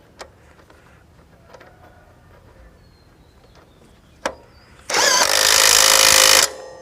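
A JPT 21V cordless impact wrench tightens a nut: a couple of sharp ticks, then a loud, close buzzing burst of hammering lasting about a second and a half before it stops abruptly.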